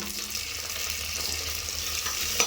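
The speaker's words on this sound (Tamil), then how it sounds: "இந்த வெங்காயம் எல்லாம் கொஞ்சம் நல்லா வதங்கி வரட்டும், நல்லா கலந்து விட்டுக்கலாம்." Onions sautéing in a pan for hotel-style sambar rice give a steady, close sizzle with a soft crackle of frying throughout. No one speaks.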